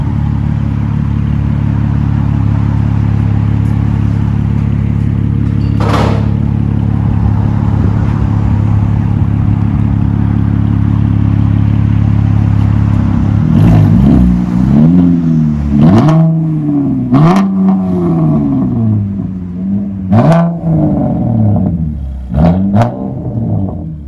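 A 2019 Chevy Camaro 3.6L V6 with straight-pipe dual exhaust and an X-pipe, muffler and resonator removed, idles loudly and steadily up close, then gets a series of sharp throttle blips that rise and fall in quick succession.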